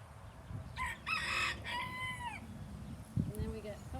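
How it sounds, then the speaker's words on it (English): Chickens and a rooster on a miniature horse farm, with a loud crow and clucking at mid distance over the quiet farmyard background. "Look at all these chickens."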